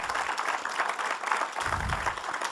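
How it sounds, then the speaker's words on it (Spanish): A church congregation claps briefly in praise, a quick burst of fairly close, dense applause filling the short moment. "Dale un aplauso al Señor."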